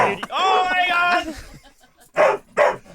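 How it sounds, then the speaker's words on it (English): Dog barking in a radio studio during a live broadcast, a long run of yelping, whimpering barks followed by two sharp separate barks, close and loud, with people talking around it. "She's just pointing and the dog's going off"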